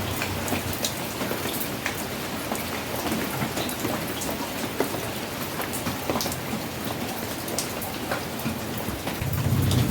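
Continuous heavy rain falls all around, a dense even hiss of drops with a low rumble growing slightly at the end.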